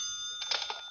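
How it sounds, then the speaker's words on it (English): A telephone rings briefly in an old radio drama, a short bright electric ring burst heard fairly faint and alone without talk. "that's my phone"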